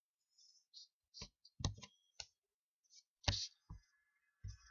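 Several sharp, quiet clicks of a computer mouse, spaced irregularly, close and alone with no talking.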